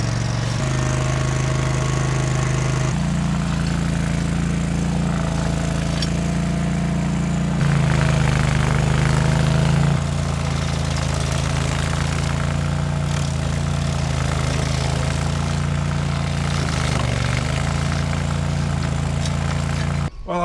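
A stump grinder fitted with carbide tungsten teeth runs steadily during a garden makeover, its engine droning loud and close for the whole stretch with slight shifts in pitch and load and no talk.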